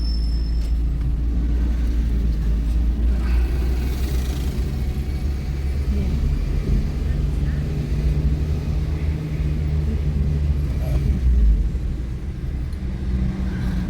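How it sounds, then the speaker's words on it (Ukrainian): A car pulling away in first gear on a driving exam route in Ivano-Frankivsk, its engine a steady, close, low rumble that holds for the whole stretch without a break. "Так, вмикаємо першу передачу. Так, додаємо газу і рушаємо."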